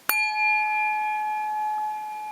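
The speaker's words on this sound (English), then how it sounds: "I'll ring the bell and say goodbye until next time" A single bell struck once to close an online permaculture course session rings out with a sharp onset and a clear, sustained tone that decays slowly over about two seconds, heard alone with no talking.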